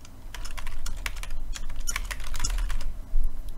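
Fast, steady typing of award text on a computer keyboard, with dense clicking keystrokes running continuously at close range and no voices.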